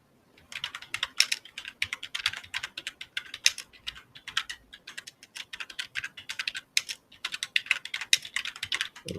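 Computer keyboard typing a music prompt: steady bursts of light, fast key clicks with short pauses, close and clear, no voices.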